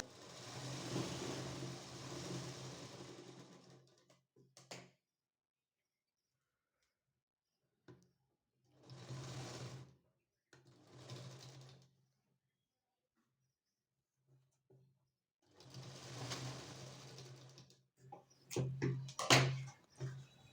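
A sewing machine stitches joined strips of doubled blouse fabric, running in several separate bursts of steady whirring with quiet pauses between runs, faint and close.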